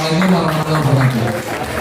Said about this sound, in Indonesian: Tepuk tangan dulu buat Pak Haji Yono, luar biasa.